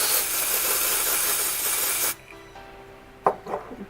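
A steady aerosol spray of Daiso Espoleur BB foundation onto a sponge hisses for about two seconds, then cuts off, followed by a few soft taps and quiet handling noises.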